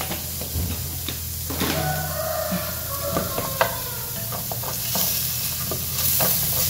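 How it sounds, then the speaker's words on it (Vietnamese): Tomatoes stir-fried in a pan, salted, for an amaranth and minced pork soup, giving a steady soft sizzle with scraping stirs throughout and no talking. "Mình xào ấy để cho cái phần cà chua nó mềm ra."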